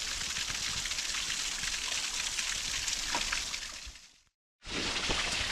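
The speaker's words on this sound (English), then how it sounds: "and there's the waterfall." A small waterfall on a brook in a Rhode Island conservation area in icy winter gives a steady, broad rushing roar, close and constant, broken by a brief cut near the end.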